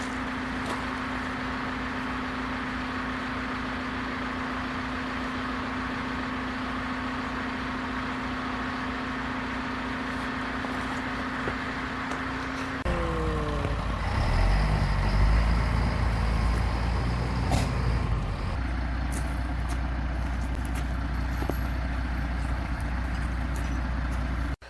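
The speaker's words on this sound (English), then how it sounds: "The dump truck almost got stuck right after it looked like the Caterpillar might also get stuck." Dump truck and Caterpillar machine working on a pole barn pad, a steady low engine drone with a high whine that shifts midway into louder, heavier rumbling and clanking as the machines strain.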